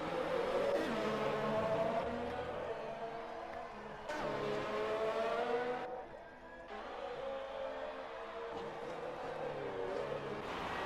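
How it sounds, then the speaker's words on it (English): Race cars competing at a Belgium round, engines rising and falling in pitch as they accelerate and shift, with a sharp cut near the middle, moderately loud and without talk. "I'm gonna let you enjoy the sound of cars."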